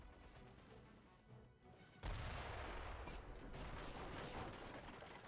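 Artillery fire from howitzers in an Age of Empires 3 battle, a sustained loud barrage of booming blasts and crashing impacts that erupts suddenly and continues densely without let-up.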